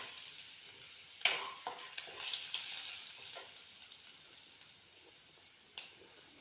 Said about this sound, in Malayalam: എന്നിട്ട് അതിലേക്ക് കറുകാപ്പട്ടയും ഏലക്കയും കറാമ്പൂവും പിന്നെ വെളുത്തുള്ളി ചെറുതായിട്ട് കട്ട് ചെയ്തതും ചേർത്ത് കൊടുക്കുകയാണ്.